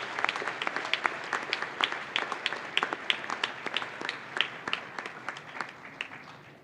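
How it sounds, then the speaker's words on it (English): Audience applause for student award winners at a youth awards ceremony, a thin scattering of distinct claps from a small group, steady and fairly close, tapering slightly toward the end. "could we have a round of applause for all of them,"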